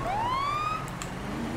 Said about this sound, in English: Well, blooming your bloody siren at me.